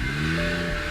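A BMW N55 engine with a Stage 2 tune runs with a loud, steady, close-up mechanical hum and drone that holds throughout the brief moment.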